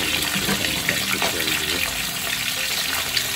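Tap water runs steadily while a sea bass is cleaned at a kitchen sink, a continuous splashing hiss with faint clatter and no clear speech.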